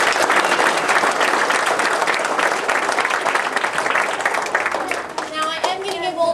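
An audience claps in a dense, steady round of applause after a performance, with voices calling out over it; the clapping thins near the end as a tonal voice or whistle cuts through.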